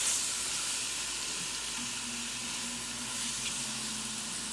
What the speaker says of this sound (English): We're just gonna let the vegetables sweat